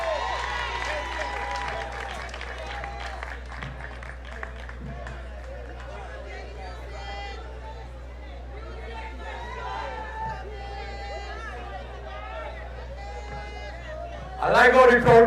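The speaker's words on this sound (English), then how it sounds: "I like how the crowd calling for the music" Crowd at an outdoor public political meeting calling and shouting over steady murmuring chatter, many voices overlapping at moderate distance, with a louder burst of sound at the very end.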